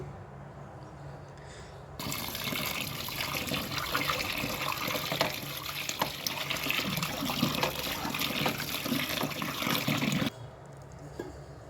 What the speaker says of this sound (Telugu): వాటర్ వేసి కడిగినప్పుడు సో ఇలాగా పూర్తిగా క్లీన్ చేసుకోవాలి